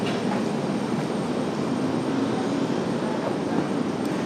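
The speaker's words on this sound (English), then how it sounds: "Got an American 737 out for departure." An American Airlines Boeing 737 roars down the runway on takeoff at an airport, a steady broad engine rumble and hiss heard from a moderate distance with no talk.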